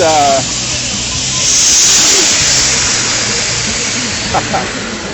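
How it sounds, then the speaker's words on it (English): Steam hisses loudly and continuously from a street stall roasting chestnuts on a busy shopping street during Lunar New Year. The broad, steady rush is close by, with faint street noise and voices underneath. "So that's the steam that they roast these. They cook these chestnuts."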